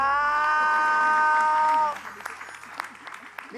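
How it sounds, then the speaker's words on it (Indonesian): A studio audience breaks into loud applause on an Indonesian TV comedy show, ringing out for a couple of seconds with a held musical tone underneath, then fading to scattered claps under talk and a brief exclamation. "Sekali lagi tepuk tangan dong"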